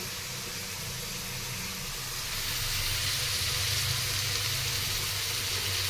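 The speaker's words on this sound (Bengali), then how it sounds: "তো পেঁয়াজ ও টমেটো যাতে সুন্দর তাড়াতাড়ি ভাজা হয়ে যায় বা গলে যায় তার জন্য সামান্য একটু লবণ দিয়ে দেবো।" Onions and tomatoes frying with a pinch of salt in a pan give a steady, close hissing sizzle that swells a little louder partway through and runs on without any talk.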